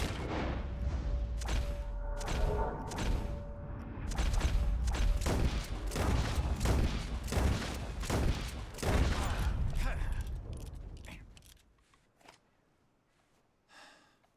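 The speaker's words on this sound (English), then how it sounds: "As soon as you see them, start shooting." Gunfire in the Red Dead video game: a rapid series of sharp, loud shots in a steady rhythm for about ten seconds, then tapering into a few fainter sounds.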